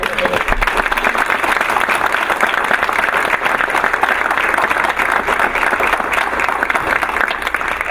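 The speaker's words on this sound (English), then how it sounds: "So join me in giving Mr. Clark a round of applause." Loud, sustained applause from the audience at a Board of Education meeting, a dense, even roar of many hands clapping for the full stretch without speech.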